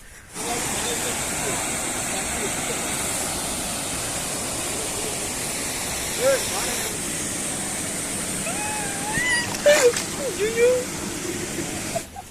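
A hidden waterfall near Madurai pours in a steady, broadband roar, loud and close, with brief faint voices and a few small sounds near the end.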